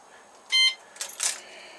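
A Kawasaki ZXR motorcycle immobiliser gives a short, bright electronic beep as it is switched off, followed by a couple of quieter chirps close by.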